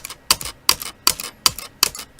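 Five crisp double clicks, a Shift key and a mouse button pressed together while playing Minecraft, repeat at a steady, even pace, close and alone.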